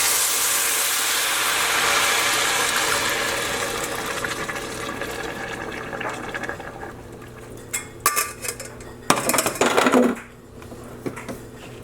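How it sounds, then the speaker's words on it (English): Soup base for French onion soup poured through a strainer into a pan, a steady liquid pour and splash that fades, followed by a few clinks and scrapes of the strainer and pan. "we're going to strain it right into the pan here."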